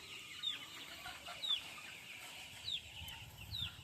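Chickens on a farm being readied for sale, giving four short, faint clucks spaced about a second apart over a low, steady background hum.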